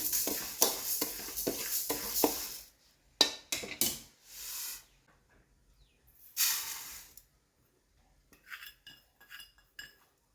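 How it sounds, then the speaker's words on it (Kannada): Cumin seeds dry roasting in a pan, heard as bursts of dry rattling and scraping as the seeds are stirred and tossed, broken by quiet pauses, close and fairly soft. "ಜೀರಿಗೆ ಚಿಟ ಚಿಟ ಅನ್ನೋವರೆಗೂ ಸೌಂಡ್ ಬರಬೇಕು"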